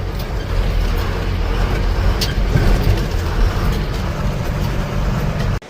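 A loaded goods truck rolls into a factory yard with a loud, steady engine rumble and broadband road noise close by, plus a few mechanical clanks, ending abruptly.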